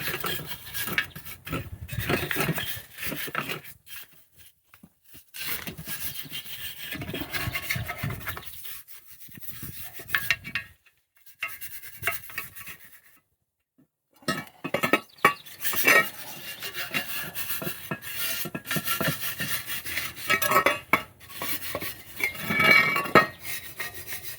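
Scratchy brushing and rubbing on rusty metal under running water in uneven bursts, pausing briefly midway before resuming, with splashy background noise and no speech.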